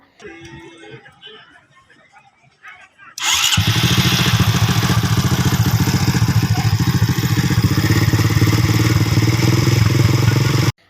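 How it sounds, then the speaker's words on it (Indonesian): A grass-cutting car powered by a Honda motorcycle engine: after some quiet clatter and faint voices, the engine fires up abruptly and runs at a loud, rough, steady idle right up close until it cuts off at the end. "Mobil pemotong rumput tersebut digerakkan oleh mesin motor Honda."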